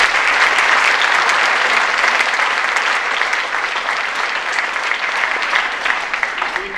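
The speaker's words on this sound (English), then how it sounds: "I think he deserves a big round of applause." Applause from an audience filling a hall at a Holocaust Remembrance Day gathering, a dense, steady wash of many clapping hands that holds loud and even throughout, with no voices over it.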